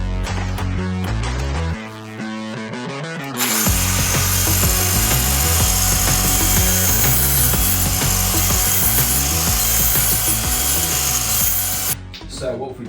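A DEWALT table saw grinds loudly and continuously through wood while notching it, a steady dense roar after a quieter opening of shorter cuts, then dropping off near the end.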